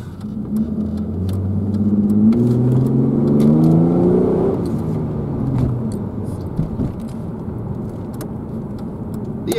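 A Holden VX Commodore accelerating hard, the engine note climbing steadily in pitch and loudness from inside the car before easing off into a lower cruising hum.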